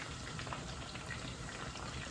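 Bacon fat poured into a hot pan for crispy home fries hisses and crackles in a steady, dense sizzle that holds throughout, close and fairly quiet, with no talking.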